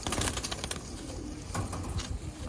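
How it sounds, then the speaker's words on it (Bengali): Khoira Gola pigeons coo on a rooftop, soft and fairly near amid a busy outdoor background with occasional wing flutters. "যা দেখতে পাইতেছেন সবগুলি খড়িগলা কবুতর"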